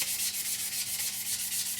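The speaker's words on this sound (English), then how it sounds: "So we're going to come along with the sanding sponge now." A soft sanding sponge rubs back and forth on a plastic Revell 1/72 Transall scale model kit, a close, steady rhythmic scratching with about a dozen even strokes and no talking.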